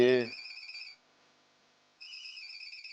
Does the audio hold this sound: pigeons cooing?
no